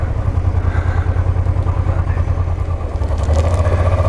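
Honda motorcycles idling in a ferry queue at Carloforte on the Sardinian island of San Pietro, a loud steady low engine rumble close by with clattering, growing slightly louder near the end.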